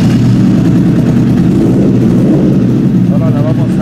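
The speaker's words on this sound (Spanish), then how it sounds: "ya vamos a echar a andar esta moto" A Suzuki Katana 600 motorcycle engine runs loud and close with a steady, rough low rumble that holds throughout, a voice speaking faintly beneath it near the end.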